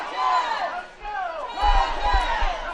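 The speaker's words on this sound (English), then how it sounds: "John Battle crowd trying to get the Trojans back into this" Crowd at a high school football game between Virginia High and John Battle roars and yells loudly, the home crowd cheering in rising swells with a few shouts standing out.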